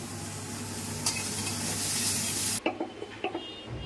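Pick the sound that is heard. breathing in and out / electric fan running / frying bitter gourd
frying bitter gourd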